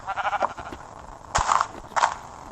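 A Minecraft sheep gives a few short, close bleats in separate bursts, spaced roughly half a second apart, with no voices.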